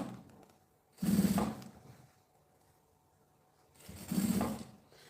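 Two short bursts of a sewing machine stitching bias binding around a bag, each about a second long and separated by a quiet pause, close and fairly soft.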